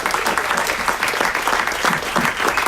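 An audience at a city council meeting gives a round of applause, a dense, steady clapping that carries on loudly for the whole stretch without a break.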